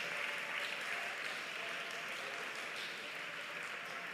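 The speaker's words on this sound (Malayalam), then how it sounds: "ഒന്ന് കൈയടിച്ച് ശക്തിയോടെ ദൈവത്തെ ആരാധിച്ചേ" Church congregation at a Malayalam Christian worship service claps hands together, a continuous, fairly faint wash of applause-like clapping heard from a distance.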